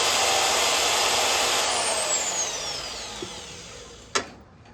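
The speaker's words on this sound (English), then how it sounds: "Well, that seems like a pretty good job for our portaband. This hardened hole saw is probably going to be tough to cut." A portaband band saw grinds through a hardened hole saw, a loud continuous close cutting whine that gradually fades as the cut slows, ending with a sharp clank.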